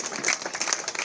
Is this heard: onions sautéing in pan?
no